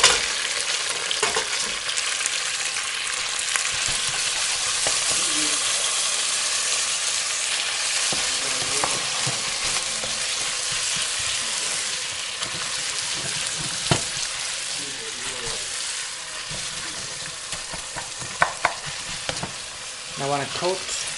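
Pad thai noodles stir-fry in oil and chili paste, sizzling loudly and continuously while a utensil scrapes and tosses them, with a few sharper clinks near the end.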